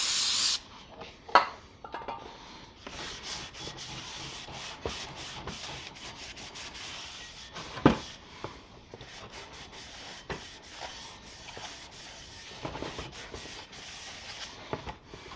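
A paper towel soaked in brake cleaner wipes down the mating surface of a differential for a Dana Spicer cast cover on a 392, making faint, steady rubbing and scrubbing with a few sharper scuffs.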